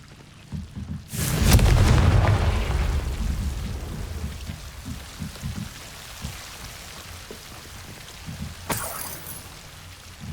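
A Confringo spell blast in the video game Hogwarts Legacy: a sudden loud, low rumbling explosion that swells and slowly fades into a rolling crackle, followed later by a brief sharp burst.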